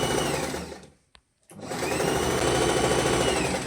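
A sewing machine restitching a trouser seam runs in a loud, close, steady whir, cuts out briefly for a short pause with a small click, then starts again and runs on.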